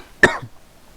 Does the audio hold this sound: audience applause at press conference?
no